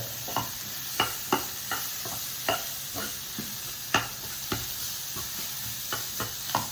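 Onion and capsicum being stirred in a hot pan for an iftar dish, a steady sizzle broken by a dozen or so sharp scraping clicks from the spoon at an irregular pace, with no talk.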